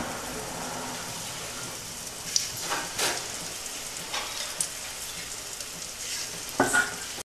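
Adhirasam, a sweet rice-flour dough for Diwali, fries in hot oil with a steady, close crackling sizzle, broken by a few brief louder pops and stirring knocks.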